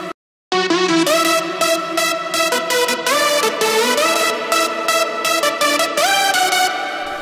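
A bright layered synth lead, with one layer an octave up, one an octave down and one contrasting layer, plays a loud melodic phrase with punchy note attacks after a brief silence, and nobody speaks.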